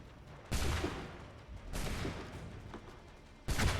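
Musket gunfire aimed at the player in Assassin's Creed 3, three loud separate volleys with crackling bursts and decaying rumble between them, no talking.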